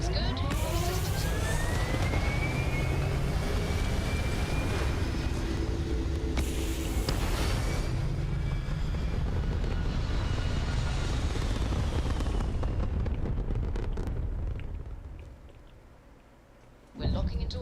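A spaceship lifts off in a Star Wars video game, a loud sustained engine roar with rising whine that swells, then fades away toward the end before a brief final burst.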